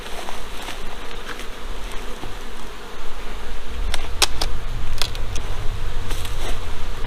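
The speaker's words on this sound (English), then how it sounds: "And there are a lot of bees in here, so let me push these bees down." Honey bees in an open hive, a dense continuous buzzing drone close by with a few sharper rustles and clicks on top, and no voices.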